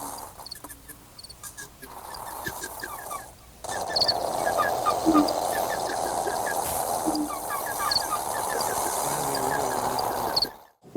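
Slowed and reversed tape sounds that mimic birdsong, with busy bursts of high twittering chirps over a dense hissing wash, beginning quieter and swelling louder before cutting off abruptly near the end.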